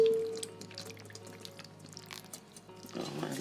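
A liquid mixture is poured over stuffed cabbage dolma in a pot, giving soft drips and trickles at low volume. It ends in a fuller splash of pouring.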